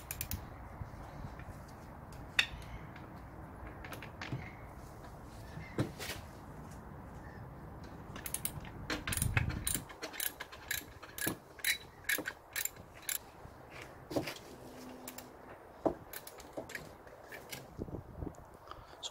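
A ratchet clicks as the alternator bolts on a Classic Mini are loosened during fan belt renewal: scattered metallic knocks at first, then a quick run of close, rapid clicks.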